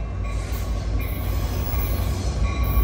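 Amtrak San Joaquin train 718 rolls into OKJ station in Oakland with a loud, steady rumble of wheels on rail, with faint wheel squeal riding over it and no voices.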